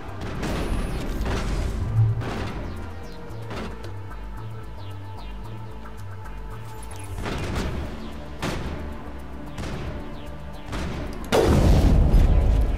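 Gunfire and heavy booms from a firefight in the video game Mass Effect ring out over a steady low rumble, with repeated loud blasts and a stronger burst near the end.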